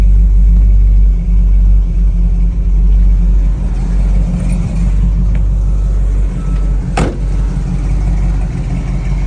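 A 1969 Chevrolet Camaro's engine runs steadily close by, a loud, deep low-pitched rumble that holds even throughout, with one brief sharp click partway through.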